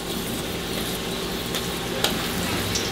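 Breaded sole fillets coated in flour, egg and breadcrumbs deep-fry in a basket in oil at 190 °C, making a dense, even sizzle that holds steady throughout, close and fairly loud, with no voices.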